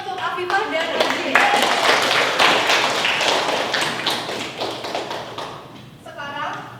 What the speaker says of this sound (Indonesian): Beri tepuk tangan untuk Afifah dan Aji.